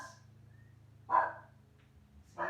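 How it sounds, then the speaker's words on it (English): Luna, a dog out in the garden, barks twice at a distance in short separate bursts over a steady low hum, with no one talking. "Hear her barking away in the garden."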